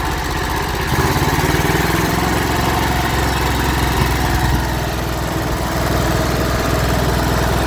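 An old gas engine on a vintage welder runs steadily with the choke on, a loud close chugging drone with a rapid even pulse and slight surges in throttle, heard alone without talk.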